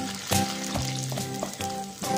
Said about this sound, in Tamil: வெங்காயம் போட்டு எண்ணெயில் நல்லா வதக்குவோம்.